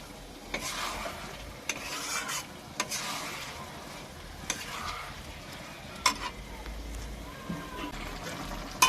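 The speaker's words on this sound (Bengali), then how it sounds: "এই যে ভালো করে একটু নেড়ে চেড়ে নিলাম বাঁধাকপিটাকে একটু কষিয়ে নিতে হবে" Shredded cabbage stirred and fried in a pan: close, continuous sizzling broken by repeated sharp scrapes and clacks of the spoon against the pan, with faint watery bubbling.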